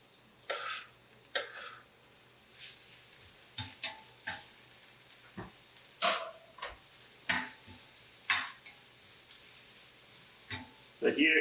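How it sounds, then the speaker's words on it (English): Onions sauteing in a teaspoon of oil in a heavy pan over high heat, a faint steady sizzle broken by occasional scraping stirs and clinks of a utensil, with a voice speaking now and then. "I put in just a little bit oil, maybe like a teaspoon, and now I'm going to saute the onions."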